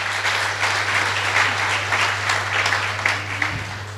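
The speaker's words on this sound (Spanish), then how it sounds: "Den un aplauso al Señor" A church congregation bursts into sustained applause, many hands clapping together steadily for several seconds in a large room over a low constant hum.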